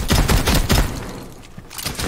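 Rapid bursts of automatic gunfire crackle close and loud in a Rainbow Six Siege match, two quick volleys with a brief lull between, then more shots resuming at the end, no voices over it.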